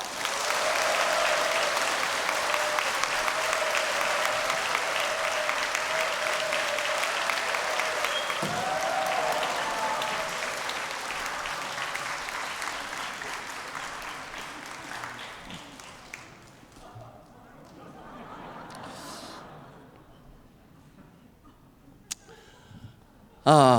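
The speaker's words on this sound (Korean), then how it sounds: "큰 박수로 맞아주세요." A church congregation applauds loudly and steadily for about fifteen seconds as a guest is welcomed. The clapping then fades to a quiet room with scattered voices and a final sharp bump.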